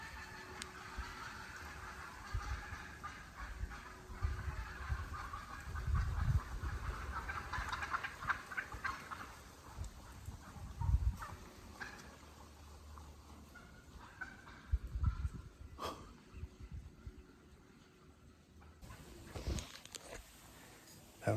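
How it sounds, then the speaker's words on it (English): A wild turkey hen cutting loudly in the woods, with repeated sharp bursts of yelping and clucking over a rustling background, the calls coming in uneven clusters at moderate distance. "That super loud hen that was cutting up like crazy."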